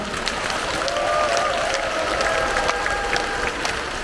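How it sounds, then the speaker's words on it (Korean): Festival crowd of community centre class members clapping together at an outdoor residents' event, a steady, moderately loud spread of applause with scattered sharper claps and faint cheering. "자축의 박수 한번 부탁드립니다"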